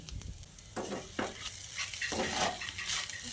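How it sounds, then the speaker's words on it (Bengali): Soybean momo filling being stirred in a pan with tomato ketchup, the flame off, giving scraping spoon strokes and soft clinks over a low residual sizzle, close and unvoiced. "এর মধ্যে একটু টমেটো কেচাপ মিশিয়ে নিচ্ছি"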